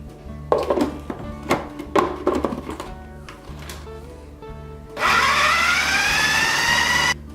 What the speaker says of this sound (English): while the food processor is running